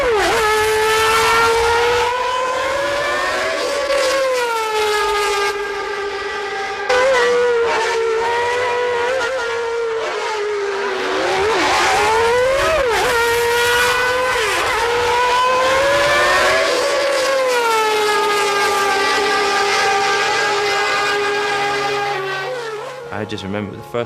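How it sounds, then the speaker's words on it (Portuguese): Ayrton Senna's McLaren Formula 1 car engine screams loudly and steadily for a long stretch, its pitch climbing and dropping through repeated gear changes as it revs on track. "O carro de Senna foi para a pista e nós gravamos o som do motor"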